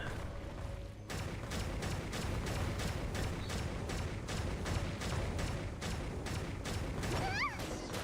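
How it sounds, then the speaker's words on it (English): Rapid machine gun fire in a video game, a steady stream of dense bursts that fills the whole stretch at close, loud level, with booming impacts mixed in. "Use the machine gun."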